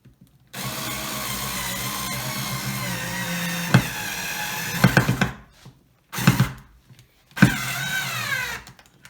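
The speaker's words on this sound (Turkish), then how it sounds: "Şuradan en sondan bir vida atıyorum buraya." A power drill drives screws into a wooden drying rack, one long steady whir followed by several shorter bursts that each end with a knock as a screw seats.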